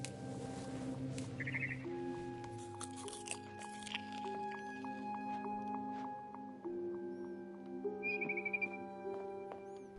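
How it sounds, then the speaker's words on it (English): A barn swallow in What Remains of Edith Finch gives two short bursts of chirping, a brief trill early and another near the end, over soft music tones and faint crunchy chewing sounds. "Then I heard chirping outside my window. It was a barn swallow going back to her nest."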